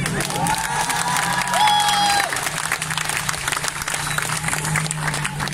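An outdoor crowd at a water-convoy rally in Tours claps and cheers, a dense wash of applause with scattered shouts and a couple of whistles, steady and moderately loud throughout.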